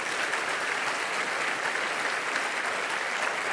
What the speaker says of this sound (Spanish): Dele un aplauso fuerte al Señor entonces